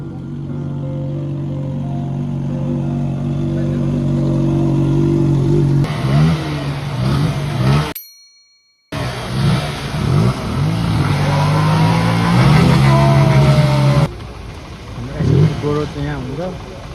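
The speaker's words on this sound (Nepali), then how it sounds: "बबाल बाइकहरू ल।" Motorcycle engines rev and idle loudly at a crowded bikers meetup in Nepal, a steady rumble swelling into sharp revving bursts, with a brief dropout midway and people talking in the background.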